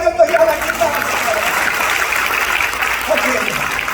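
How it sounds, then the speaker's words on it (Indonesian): Church congregation at an anniversary service clapping together, a dense, steady wash of applause that follows a brief burst of voices and carries on throughout, loud and close. "Tepuk tangan bagi Allah kita."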